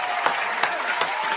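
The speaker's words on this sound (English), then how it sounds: "Round of applause." A brief stretch of crowd applause, a dense clapping texture with a few sharper claps standing out roughly every third of a second and a faint voice running underneath.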